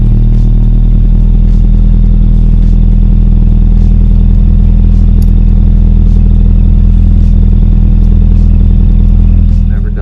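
A Honda Civic with a swapped H22 engine idles steadily, a loud, constant low rumble that stays level and close throughout, with no revving.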